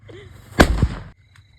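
A single sharp firecracker bang bursts close by during celebrations of the Ayodhya Ram Mandir consecration, followed by a short crackling tail, then quiet.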